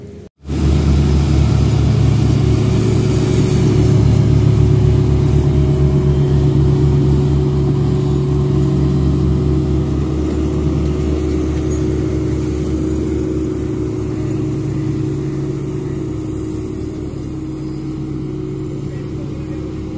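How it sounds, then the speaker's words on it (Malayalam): Road tarring vehicles idle and run their engines at the NH 66 roadwork in Randathani, Malappuram: a loud, steady, close-up diesel-like rumble and hum starts abruptly and holds unbroken, easing only slightly toward the end. "ടാറിങ് വണ്ടിയൊക്കെ ഇവിടെ എത്തിയിട്ടുണ്ട്."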